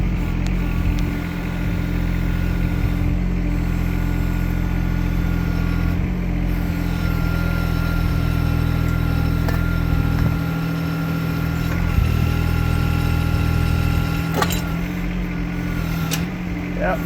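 A Kymron XH20D mini-excavator's engine runs at around 1,700 RPM, a constant loud droning hum holding steady throughout with occasional faint knocks.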